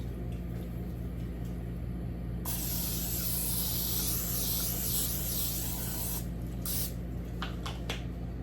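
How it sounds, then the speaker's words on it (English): Cooking spray hisses from a can into a pan in a home kitchen, a steady, close broadband spray lasting several seconds with a few short bursts after, no talking. "So we're gonna spray this."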